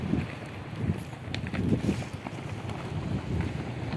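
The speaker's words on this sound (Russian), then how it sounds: "Но смотрите, какой ветер." Strong gusty wind off the sea at Gagra, Abkhazia, during a light storm buffets the microphone, a continuous low roar that rises and falls in waves.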